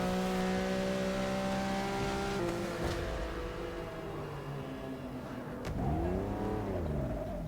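A Lamborghini's engine revs hard in the Forza Motorsport 6 racing game on a wet track, its pitch holding steady, then dipping and climbing again in a rising sweep near the end. The engine stays loud and continuous, with no talking.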